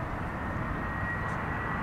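Air Mauritius Airbus A340-300 jet on landing approach at Amsterdam Schiphol, a steady broadband engine roar holding at constant loudness throughout, moderately distant, with no voices.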